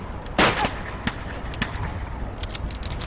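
A single sharp gunshot at a shooting-range target in Call of Duty 2 Red Army training. The loud crack rings out briefly, followed by quieter scattered distant shots and ambient battlefield noise.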